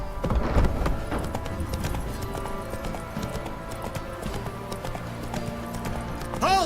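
Roach the horse gallops in The Witcher 3: Wild Hunt, a rapid steady clip-clop of hooves with game music underneath and a brief whinny-like sound at the close.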